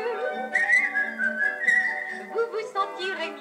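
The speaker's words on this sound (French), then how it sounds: "Sifflez un air joyeux" A lively melody whistled alone, with clear sliding notes rising and falling in a cheerful tune, close and moderately loud.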